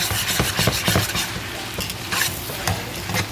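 Lo mein noodles and ingredients stirred in a hot pan, with a steady sizzle of frying under repeated scraping and clinking strokes of a utensil, close and fairly loud, no talking.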